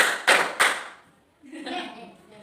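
Students in a classroom clap along in a call-and-response rhythm game, two sharp group claps close together, then a pause followed by a voice speaking.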